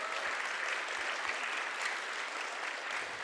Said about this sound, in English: So let's just give a big round of applause to each other.